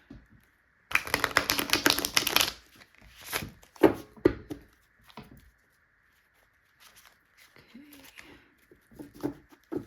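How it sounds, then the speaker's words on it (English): Tarot cards are shuffled, flipped and laid down close by: a dense burst of riffling, then scattered crisp slaps, flicks and rustles with quiet gaps between them, while a soft voice murmurs briefly. "that is why you see me flip these cards funny"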